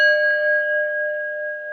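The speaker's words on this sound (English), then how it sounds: "This is like a Tibetan bell" A Tibetan bell rings with a clear, sustained tone that hangs evenly and decays only slightly, pure and steady with no voices.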